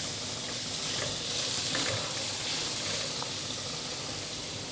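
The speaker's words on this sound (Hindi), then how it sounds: "दोनों चीज़ों को हमें अच्छी तरह से सौटे करना है" Ingredients for egg fried rice sauté in oil in a pan, a steady, close, loud sizzle and hiss with faint stirring scrapes running throughout, no voices.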